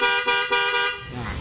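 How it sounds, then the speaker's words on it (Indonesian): Car-style Denso horn wired through a relay on a Yamaha Nmax scooter, blaring loud and close in three sustained bursts with brief dips between, the tone sagging near the end. "Sekarang pakai relay dan pakai klakson Denso"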